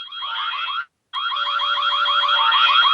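A loud electronic alarm, like an alarm clock, blares a warbling repeated tone, cutting out briefly and then resuming continuously, close and alone with no talk.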